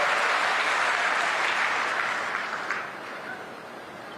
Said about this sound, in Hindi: मेरे मित्र भाई शंकर भाई चौधरी जी का जोरदार तालियों से स्वागत और अभिनंदन करें।